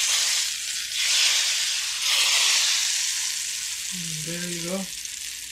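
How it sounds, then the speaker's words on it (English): Hot oil poured into an already hot pan of baigan choka hisses into a loud, steady sizzle that fills the whole moment, with someone speaking briefly near the end. "So pan was hot already, so this oil is hot. We're gonna just add our oil here now."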